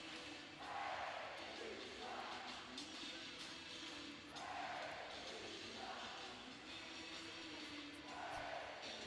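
Hockey crowd at a Shreveport Mudbugs home game against the Amarillo Bulls, cheering and roaring in steady swelling waves after a second-period goal, loud and sustained throughout.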